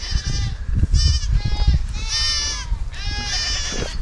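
Goats bleat repeatedly up close, several overlapping wavering cries in quick succession, with rustling and low thumps underneath.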